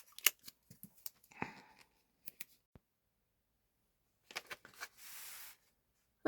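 Advent calendar gifts being wrapped in paper: scattered crinkles, snips and rustles with quiet pauses between, a brief tearing or sliding rustle near the end, close and soft.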